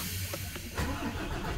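A 2019 Scania 450 6x4 truck with retarder cranks briefly, then its diesel engine catches and settles into a loud, steady idle close by, with no one speaking.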